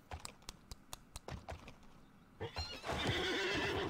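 Horse neighing in the online game Alicia Online: quiet keyboard clicks first, then a loud, drawn-out whinny rises and continues to the end.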